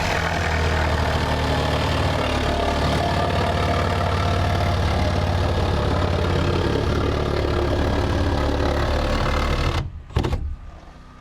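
A reciprocating saw fitted with a 9-inch blade cuts a window opening, its motor holding a loud, steady buzzing drone for about ten seconds before stopping abruptly, followed by a brief clatter.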